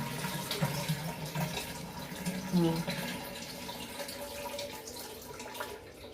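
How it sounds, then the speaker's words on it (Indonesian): Water trickles and splashes steadily from a second-hand squat toilet that keeps running, with a voice talking over the flow. "Dengar nggak suara germecik airnya? Kadang-kadang airnya itu keluar terus."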